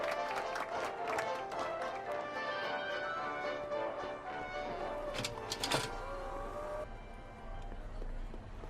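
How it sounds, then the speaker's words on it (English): Crowd applause in the Back to the Future video game, a sustained clapping texture under a background music bed, moderate and somewhat distant, with a brief sharper burst partway through. "How about a round of applause just for the heck of it?"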